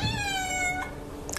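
A cat meows once with a long, drawn-out falling cry, close and clear, while it waits for its daily massage indoors, followed by a faint shorter sound near the end.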